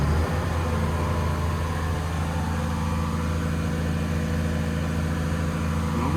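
A diesel engine with auto idle switched off revs up and holds a steady, loud running drone, with a constant low hum and no pauses.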